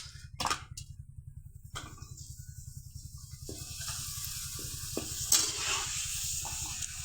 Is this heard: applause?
no